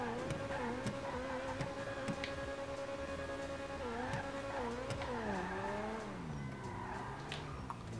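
Ferrari tri-turbo sports car engine in GTA 5, revving loudly and continuously with rising and falling pitch sweeps as it accelerates and shifts, with faint tire squeal.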